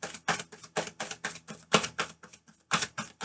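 Tarot cards are shuffled by hand in a quick, rhythmic series of crisp riffling bursts, about a dozen close, distinct strokes with short pauses between them.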